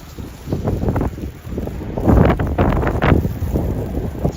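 Gusty wind buffeting a microphone on a snowy street corner in Regina in April, loud irregular bursts that swell and surge, strongest in the middle, with no speech.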